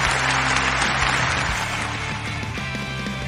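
Dense, steady applause from a cheering crowd in the video game Broforce fills the moment loudly and continuously, with game music humming underneath.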